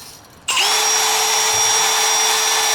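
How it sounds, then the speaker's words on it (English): A power drill spinning a pipe cleaner starts abruptly and whirs at a steady high pitch, loud and close, running continuously without pause. "I got a pipe cleaner on the end of a drill"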